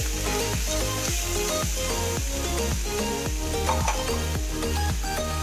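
Ginger garlic paste sizzles in hot oil for a Chicken 65, a steady close frying hiss running throughout under a recurring, even pattern of sounds, with no talking.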